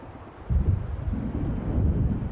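A deep, sustained rumble of thunder from an approaching storm in Alan Wake Remastered swells in after a quiet moment and rolls on steadily, low and heavy, with no talking.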